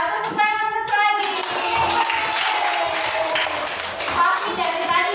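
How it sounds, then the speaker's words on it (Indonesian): Children clap their hands together in an elementary school classroom during a coding lesson, a dense burst of close, uneven clapping with a few young voices and an adult talking over it. "Tidak apa-apa, tepuk tangan terus lagi."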